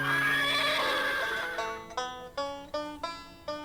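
A horse whinnies, first with a long, high, bright neigh and then with a run of about five short, pulsing bursts that trail off, close and clear, with no voices.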